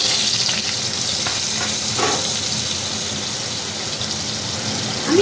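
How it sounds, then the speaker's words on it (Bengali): Potatoes fry in hot oil previously used for cauliflower and eggs, giving a steady, close sizzle and crackle that lasts throughout with no voices. "আমি ওই তেলের ভেতরে আলুগুলো দিয়ে ভেজে নেব"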